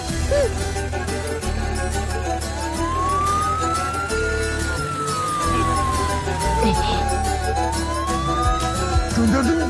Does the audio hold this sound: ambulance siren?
yes